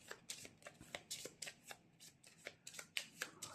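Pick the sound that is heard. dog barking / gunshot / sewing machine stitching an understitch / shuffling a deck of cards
shuffling a deck of cards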